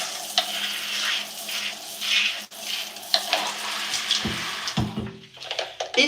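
Running water rinses a small flexible hair brush over a hair catcher, a steady close splashing stream with brief knocks and taps of the brush toward the end, fairly quiet overall.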